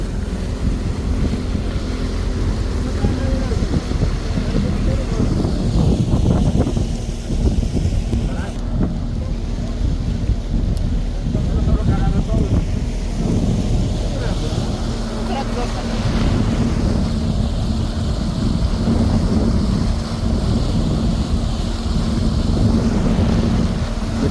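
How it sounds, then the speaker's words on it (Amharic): A fiberglass motorboat's engine drones steadily as it cruises on Lake Hawassa, with wind buffeting the microphone and water splashing along the hull throughout; voices are heard in the background. "እንግዲህ ሞተር ነው እርግጠኛ ነኝ።"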